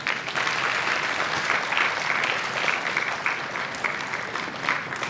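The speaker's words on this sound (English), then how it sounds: "May we have a huge round of applause." Sustained applause from an audience at a felicitation ceremony for a guest of honour, a dense, steady wash of many hands clapping that holds at an even level throughout with no voices over it.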